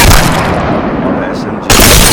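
Sniper rifle fire in the video game Apex Legends, two loud, sharp booming shots, one at the start and another near the end, with a dull rumbling decay between them.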